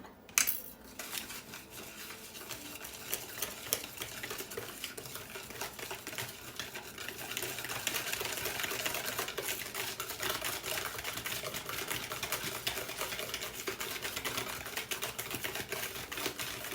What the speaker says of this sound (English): Now we're going to mix this up.